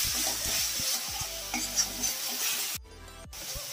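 Coriander and cumin powder being stirred in a hot pan for a Bengali doi katla fish curry, with repeated scraping strokes of a spatula over a continuous close sizzle, and one brief pause in the stirring.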